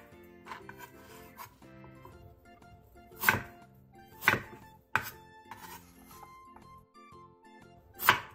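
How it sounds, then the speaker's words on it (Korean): A kitchen knife chops through a peeled radish, several sharp, loud cuts landing irregularly against a board with quieter handling in between. "칼을 이용해 껍질을 깎아낸 뒤 무의 크기에 따라 4등분에서 9등분으로 잘라주세요"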